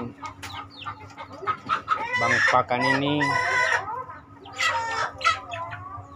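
Free-range chickens cluck busily around a backyard coop stocked with an organic feed bank made from market waste, a rooster crowing among them, with someone briefly talking nearby.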